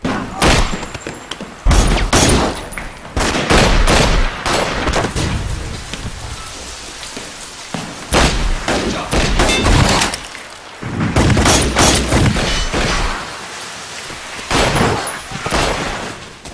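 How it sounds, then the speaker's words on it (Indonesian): A film gunfight in a revenge thriller, with heavy bursts of automatic gunfire and booming shots in repeated loud volleys, partly under narration. "Hingga kemudian, baku tembak pun kembali terjadi."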